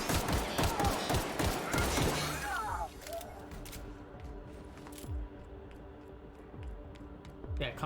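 Rapid weapon fire in The Outer Worlds, a dense burst of repeated shots in the first three seconds, then scattered fainter pops and clicks over a low game ambience, with some voices mixed in.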